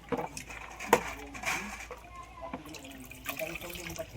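Wheat grains for kurdai being washed by hand in a vessel of water, with soft sloshing, irregular splashes and trickles, one sharper slap near the start, moderately close.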